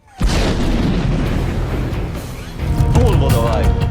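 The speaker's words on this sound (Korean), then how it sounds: "주인공의 등 뒤에서 폭발하는 최고의 클리셰." A fiery explosion goes off behind the hero in a John Wick action film, a sudden loud boom followed by sustained roaring blast and rumbling debris, close and dominant throughout.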